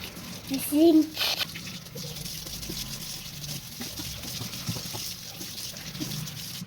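A kitchen sink being washed under running tap water, a soft continuous trickle with a few clunks near the start, with a person speaking over it.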